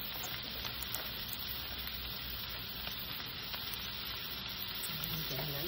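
Carrots fry in a pan for pancit with Chinese sausage, a soft, steady crackling sizzle heard quietly and close, without speech.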